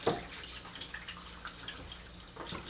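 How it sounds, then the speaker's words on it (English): Water running in a kitchen sink, a soft, fairly faint splashing trickle with a slightly louder burst at the start, heard alone without speech. "That's kitchen sink if you hear that water, by the way."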